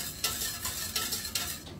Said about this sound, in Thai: เราก็ใส่ภาชนะแล้วก็คนได้เลย คนไปเรื่อยๆจนกว่าเขาจะเป็นมีเดียมเกรดนะ